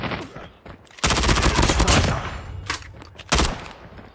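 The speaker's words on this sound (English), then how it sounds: "Sentry gun deployed." A sentry gun in Call of Duty opens up with a sustained, loud rapid-fire burst, fading off and then returning with another short, sharp volley.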